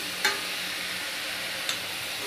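A coconut milk mixture for til pitha fries in a pan with a steady, soft, even sizzle, broken by two brief clicks from stirring.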